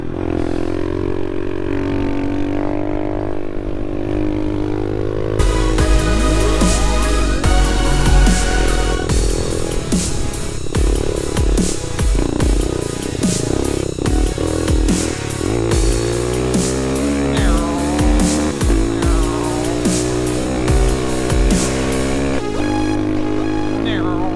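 An SSR pit bike engine while riding, loud and close, revving up and down through shifts with rising and falling whine and clattering mechanical noise throughout.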